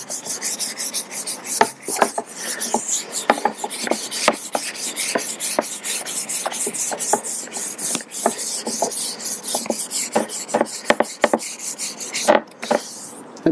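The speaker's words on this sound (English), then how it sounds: "just try to make sure you sand it at an angle" A resin surfboard is hand sanded at an angle with quick, steady rasping strokes that repeat close up and loud, without any voices.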